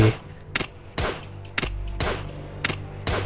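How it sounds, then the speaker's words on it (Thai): A loud, slow-firing crafted gun in the survival video game Last Day on Earth fires about six sharp shots, spaced roughly half a second apart, with nothing else heard between them. "แต่ปืนมันก็จะเสียงดังแล้วก็มันจะยิงช้าหน่อย"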